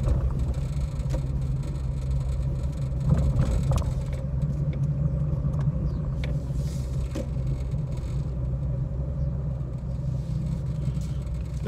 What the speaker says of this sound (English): park up in the drive, sit for a couple of moments with the engine running, and see if we start to overheat.